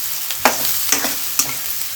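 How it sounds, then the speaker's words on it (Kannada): Two large onions fry over medium heat in a pan, giving a steady close sizzle. About three sharp stirring scrapes break through the sizzle, and no one speaks. "ಈ ಈರುಳ್ಳಿನ ನೀಟಾಗಿ ಫ್ರೈ ಮಾಡ್ಕೊಳ್ಬೇಕು"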